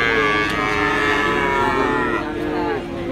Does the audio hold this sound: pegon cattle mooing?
yes